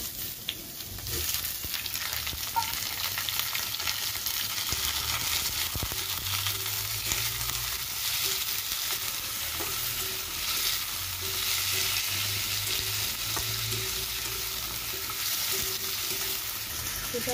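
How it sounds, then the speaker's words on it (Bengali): Chicken legs frying in a pan with already-browned onions for a Bengali village dish, a steady loud sizzle with stirring scrapes and occasional pops throughout. "চলো এগুলো দিয়ে দিই, পেঁয়াজ আমার ভাজা হয়েও গেছে।"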